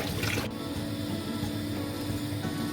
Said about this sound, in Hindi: तो हम इसमें डालेंगे 3 लीटर पानी।